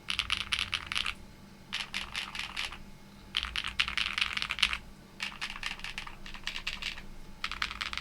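Bursts of fast typing on a mechanical keyboard fitted with long pole switches, GMK keycaps and full foam, clacking in close, steady runs separated by short pauses, with no voices.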